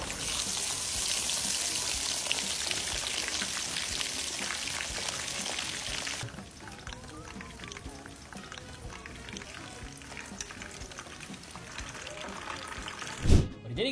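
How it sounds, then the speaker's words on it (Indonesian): Kenzler chicken wings fry in hot oil with a loud, steady hiss and crackle that eases partway through and continues more softly, close up, ending in a brief clatter. "Sekarang kita goreng Kenzler sayap ayamnya selama 6 menit aja."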